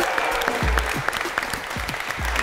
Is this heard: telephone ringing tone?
no